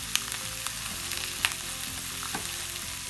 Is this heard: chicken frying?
yes